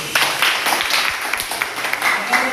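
Audience clapping during a classroom presentation on renewable energy, a steady patter of many hands throughout, fairly close and continuous, with some speech-like sounds mixed in.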